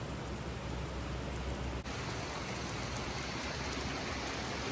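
Steady rain pours down over a farm during flooding, a dense, even hiss of falling water with no pauses, moderately loud and close, continuing unbroken throughout with no voices.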